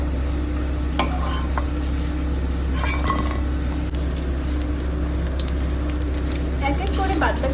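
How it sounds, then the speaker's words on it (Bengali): Cauliflower fritters frying in hot oil give off a steady, close sizzle, with a few light clinks of utensils against the pan breaking through now and then. "এক এক করে বাদবাকি বড়াগুলো ভেজে নিচ্ছি।"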